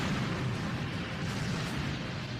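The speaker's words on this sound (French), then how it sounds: "Daryl s'éjecte de l'avion quelques secondes avant l'explosion" A dense, sustained roaring blast fills the space, loud and continuous like a large explosion's rumbling aftermath.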